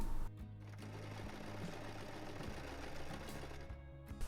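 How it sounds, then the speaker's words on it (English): A sewing machine runs steadily, stitching a zigzag seam on a scrap-fabric hem, its motor whirring close up with a brief pause at the start and at the end. "I can then sew it together with a zigzag stitch"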